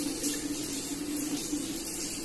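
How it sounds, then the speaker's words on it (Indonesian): A water tap in a clinical skills lab sink runs with a steady, continuous splashing rush, moderately close and unbroken, with no talking. "Kemudian kita nyalakan keran air."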